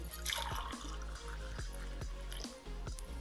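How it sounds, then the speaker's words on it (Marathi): Warm, freshly steamed water is poured from a pot into a glass in a home kitchen, a soft trickle broken by several distinct drips and plinks, faint over a low steady hum. "आता ही ग्लासमध्ये ओतून घेते"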